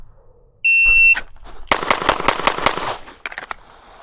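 Rapid string of sharp pistol shots from a stock Glock 17 Gen 6 fired on a shooting range, loud and close, after a shot timer beep, ending with a few quieter trailing pops.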